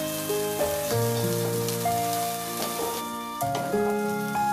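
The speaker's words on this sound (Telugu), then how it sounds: "ఇప్పుడు ఇందులోనే మనం ఫ్రై చేసి పెట్టుకున్న కాకరకాయ ముక్కల్ని యాడ్ చేసుకుంటున్నాను" Pre-fried bitter gourd pieces tipped into a pan of garlic chilli masala set off a steady hissing sizzle, heard beneath a melodic musical backing throughout.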